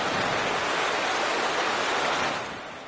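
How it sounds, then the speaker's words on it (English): Heavy rain pours down at an outdoor pool in Cathedral City during a desert storm, a loud dense hiss of downpour mixed with wind that holds steady and then eases off at the end. "Yeah, howling wind and rain in Cathedral City."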